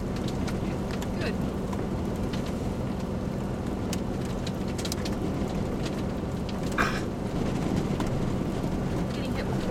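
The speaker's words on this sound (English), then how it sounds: "Getting hit with cold rain." Cold rain pelts down during a tornado storm chase, a dense steady hiss scattered with sharp drop impacts. Voices can be heard faintly in the background.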